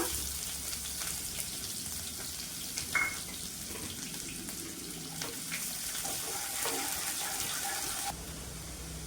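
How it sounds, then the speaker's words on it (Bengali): Chopped onion fries in hot mustard oil in a kadai, giving a continuous close sizzle and crackle with occasional clinks and stirring noises throughout. "তেল গরম হয়ে গেছে, দিয়ে দিব পেঁয়াজ কুচি।"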